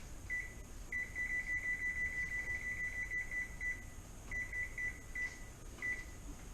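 Kitchen oven beeping while set to preheat: a run of short electronic beeps in two bursts, fairly faint over a steady background hum.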